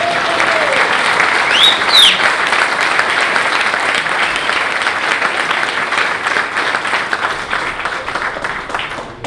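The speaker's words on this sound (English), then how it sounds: "Can you give them a round of applause, please?" Sustained applause from a large audience at the FIATA World Congress 2019 closing ceremony fills the space, steady and dense, tapering slightly toward the end.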